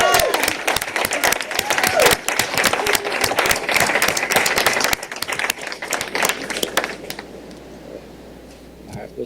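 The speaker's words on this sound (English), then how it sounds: "Another round of applause" A county commissioners meeting room fills with loud, sustained applause from the audience, many hands clapping for about seven seconds before dying away.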